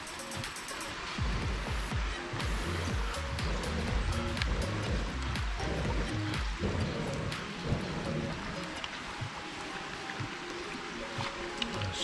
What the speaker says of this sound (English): Strain off the water.